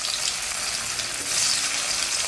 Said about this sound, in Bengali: আমি একটু আলুটা ভেজে নেব।